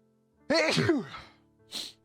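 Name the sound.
sneeze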